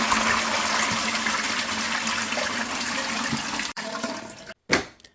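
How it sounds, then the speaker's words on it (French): A toilet flushes with a loud, close rush of water that drains for several seconds, then cuts off abruptly, followed by a short gurgling refill. "Et puis je tire la chasse."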